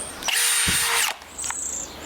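A Milwaukee M18 cordless drill runs after being repaired, whirring up loudly for about a second, stopping, then spinning briefly again at a higher pitch, close up with no speech.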